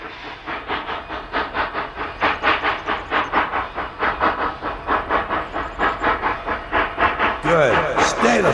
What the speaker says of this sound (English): Only after much blowing of the whistle and the noisy hissing of escaping steam from the open cylinder